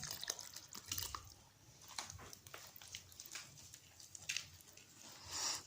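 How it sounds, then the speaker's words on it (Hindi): Water poured and dripping onto gachni clay in a bowl, a series of close, uneven trickles and wet splashes with small drips, fairly quiet, no talk. "तो ये देखिए पानी डालने लगी मैं।"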